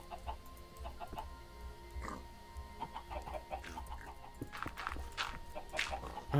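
Hens in the game TerraFirmaCraft cluck in short, repeated bursts, fairly faint against a low background hum, with the clucks growing busier toward the end.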